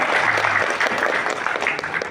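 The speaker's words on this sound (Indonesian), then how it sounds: "Tepuk tangan buat teman-teman ya." Loud, continuous applause fills a national coordination meeting hall for government contract workers, an audience clapping steadily without letup and not dying away.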